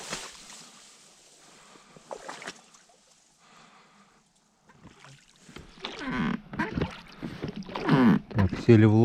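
A boat moves across a marsh during a duck hunt, with water and wind noise, faint at first and then louder and closer, while people talk over it.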